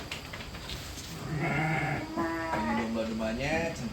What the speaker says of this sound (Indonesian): Ini domba-domba yang dikelola oleh santri di Pondok Pesantren Al-Mizan Wonajaya.